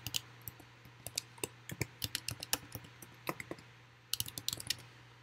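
Typing on a computer keyboard, with quiet, irregular bursts of close key clicks and taps over a faint steady hum, a short pause, then another quick run of keystrokes.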